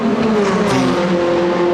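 The 88 endurance race car at Spa-Francorchamps during the 2021 4 Hours race, a loud, close, sustained engine roar with a brief rattling bump as it runs over curbs.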